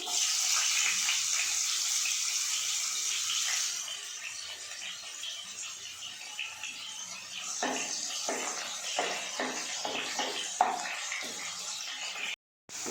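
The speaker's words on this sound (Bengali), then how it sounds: "এরপর আমি কড়াতে দিয়ে দেবো উচ্ছে উচ্ছেটা আমি ভেজে দেবো" Bitter gourd (uchhe) frying in hot oil in a kadai for Bengali shukto, a steady close sizzle with scattered crackles and a few brief stirring clinks, no talk.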